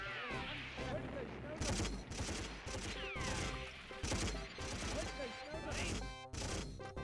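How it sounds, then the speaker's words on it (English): Pool balls in a WWII-themed video game sounding as clattering machine-gun bursts, loud repeated rapid strikes in several waves over busy game sound. "The pool balls now make a machine gun sound."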